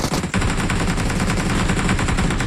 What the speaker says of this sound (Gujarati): જો ફાયરિંગ થાય છે